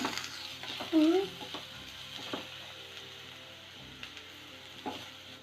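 Ginger and garlic frying in a pan with turmeric powder added, a steady close sizzle with stirring scrapes and a brief high squeak early on.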